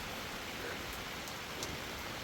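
Rain falling steadily on a mountain pilgrimage trail, a faint, even hiss of drops with no voices.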